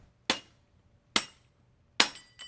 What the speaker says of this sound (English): hitting it with the hammer in a vise is going to do the trick